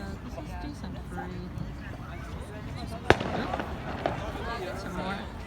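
July 4th fireworks in 2020 going off near a hospital building: a sharp, loud bang stands out, followed by a softer pop, over a steady bed of distant crackling and murmuring crowd noise.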